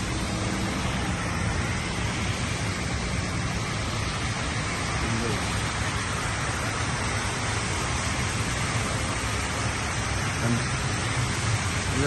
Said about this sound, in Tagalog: Saglit lang na ulan yan guys ha.